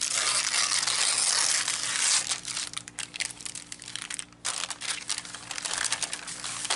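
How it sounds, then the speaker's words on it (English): Collage paper laid on wax paper is torn and crumpled up close, loud crinkling and ripping in irregular bursts and pauses, with no voices. "I'm going to try not to talk when I'm ripping because this is on wax paper"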